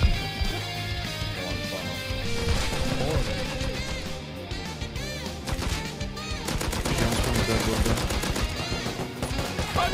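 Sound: gunfire in the video game Rust

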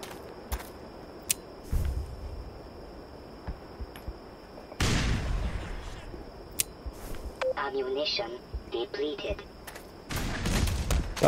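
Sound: grenade explosion in Black Mesa video game

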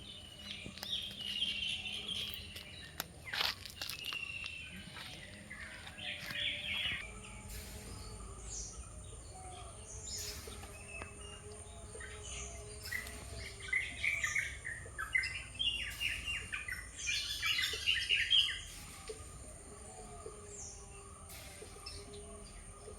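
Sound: birds chirping

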